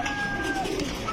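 A large pigeon coos briefly and close by, a soft low murmur over faint background noise with no talking.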